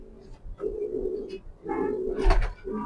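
A short-tailed pencil-balance pigeon, a female, gives low, throaty coos in two or three rolling phrases, close and fairly soft, with no talk over them.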